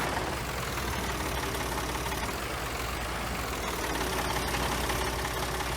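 An old Ford tractor idles steadily in Farming Simulator 22, a continuous low engine rumble with a slight knocking texture that holds an even level throughout, with no talk over it.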